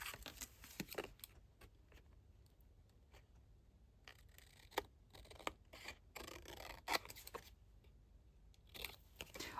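Scissors snip through Tim Holtz Christmas ephemera paper in quiet, irregular bursts of sharp crisp cuts with pauses between, close to the microphone and with no talking.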